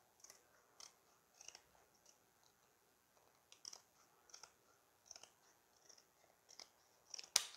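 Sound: cutting a slice of cardboard box for an anemometer model

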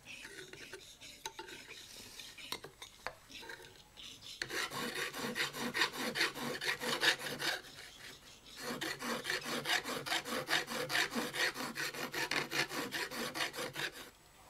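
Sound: smoothing wood with a rasp file

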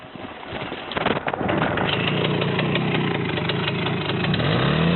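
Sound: motorcycle engine idling

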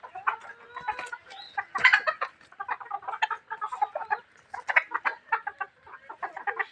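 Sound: domestic chickens clucking

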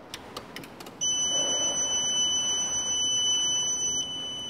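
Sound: Growatt hybrid inverter beeping while being turned off

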